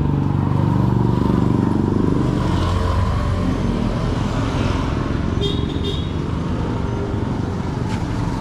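A motorized tricycle engine idles and runs close by with a steady, loud, rough rumble, joined by brief high tones near the end.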